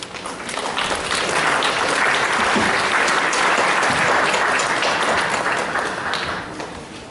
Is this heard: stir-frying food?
no